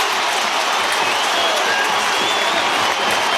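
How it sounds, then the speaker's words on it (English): A large Australian football crowd at a Carlton versus St Kilda match roars and claps in a dense, steady wall of cheering and applause. "So Curnow, the crowd will tell us if this goes through."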